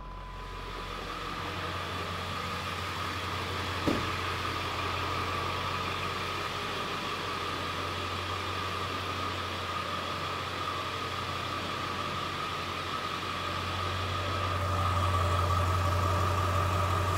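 A 2000 Ford Excursion's 7.3L Powerstroke diesel with stock exhaust and 148,000 original miles idles steadily after starting, a low even rumble that runs continuously and grows slightly louder toward the end.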